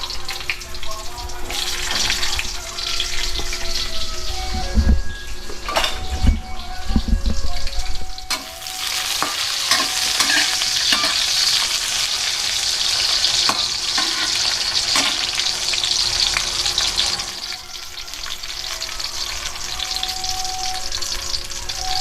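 Snails sizzling and being stirred in a hot pan, a steady loud frying hiss with clinks and scraping of utensils throughout.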